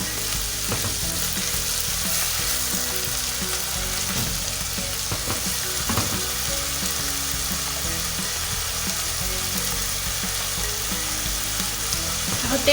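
Onions frying in a pan for Syrian-style kibbeh, a steady broadband crackle and sizzle with stirring clatter throughout, close and fairly loud, no voices.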